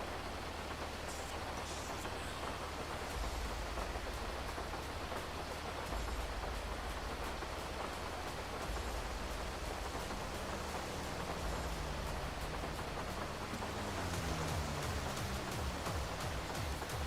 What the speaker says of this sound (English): Looks like the rain might pick up.